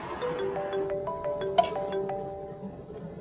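A phone ringtone plays a melodic electronic tune of sustained tones with rhythmic pulses, moderately loud against a quiet room with no speech.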